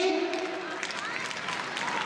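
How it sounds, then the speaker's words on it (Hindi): Children at a Lohri celebration at Arya Kanya Gurukul clap to welcome the principal. Dense, continuous applause fills the space while a voice speaks over it at the start. "जोरदार तालियों के साथ आप प्रधान सर का स्वागत करिए"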